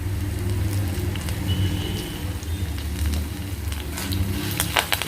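Garlic and curry leaves sizzle in hot oil in a pan, a steady loud frying hiss with scattered crackles and pops throughout, no voices.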